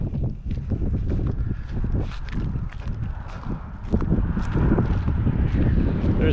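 Steady, blustery wind roars across the microphone at a campsite in St Paul, Alberta, a constant broadband rush with footsteps or crunching faintly mixed in, swelling slightly louder near the end.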